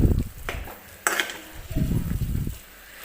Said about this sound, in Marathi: तर भात मी टाकून घेतलेला आहे बघा कढईमध्ये, आणि हे आपल्याला व्यवस्थित मिक्स करून घ्यायचं आहे.